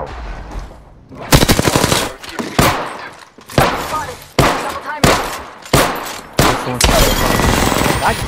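Automatic gunfire in Apex Legends, repeated loud bursts of rapid shots with short gaps between them, close and dominant, with brief quieter moments between volleys.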